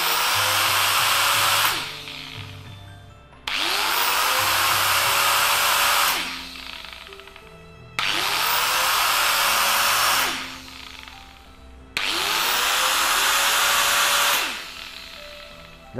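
A Japanese-made Makita 17mm electric demolition hammer with an electric brake runs in four loud bursts of about two seconds each. Its motor whines up at each start and cuts off quickly between runs.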